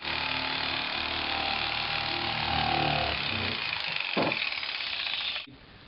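Power saw cutting a circle out of a plastic barrel for a cattle mineral feeder, a loud, continuous close-up buzzing whine that holds steady for several seconds, then cuts off abruptly near the end.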